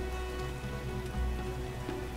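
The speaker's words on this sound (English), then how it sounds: "What a downpour." Heavy rain pours down in The Witcher video game, a dense, steady hiss of drops on surfaces, loud and unbroken with a faint tonal hum underneath and no voices.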